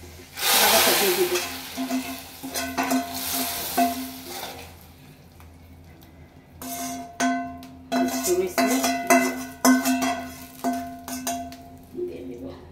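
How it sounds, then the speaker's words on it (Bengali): Hot fried tempering (baghar) poured into masoor dal bursts into a loud, bright sizzle that fades over several seconds, followed by clinking of a spoon against the pot. "ডালের মধ্যে বাগারটা দিয়ে দিব।"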